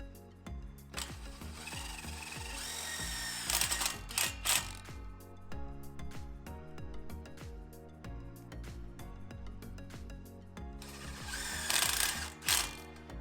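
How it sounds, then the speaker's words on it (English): A power drill whirs in short bursts as self-tapping screws are driven without pre-drilling to mount hinges on a wrought iron gate, with ratcheting mechanical clatter and rattling between the louder surges. "And I'm not pre-drilling those self-tappers."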